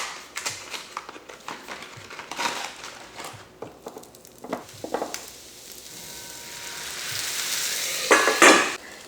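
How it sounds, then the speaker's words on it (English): Pancake batter of wet and dry ingredients is stirred in a bowl with a utensil, giving repeated scraping and wet sloshing strokes with occasional clinks against the bowl, close and steady. "I'm going to stir this just until combined"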